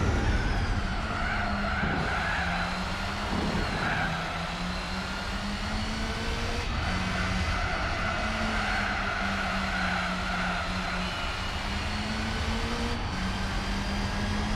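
A racing car engine from the game Gran Turismo 4 drones steadily at high revs, with tones shifting slightly as it changes gear, loud and continuous with no voices.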